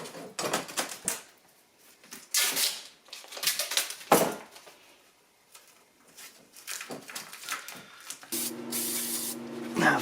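Spray paint hissing onto car air suspension brackets for a 1976 Mazda RX, several close bursts of varying length separated by short pauses, with a steady humming tone near the end.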